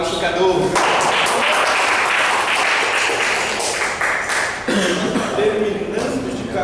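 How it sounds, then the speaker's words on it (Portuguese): An audience at a presentation event breaks into a burst of clapping that runs for several seconds, with voices speaking just before and as the applause fades. "Um aplauso, Cadu."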